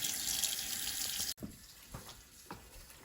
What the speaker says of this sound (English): put it under water and get all the dirt off of it.